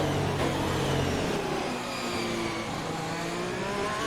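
F1 race car engine from the F1 2021 video game on a final lap: a loud, continuous high-pitched engine whine holding steady, with shifting revs and no talk.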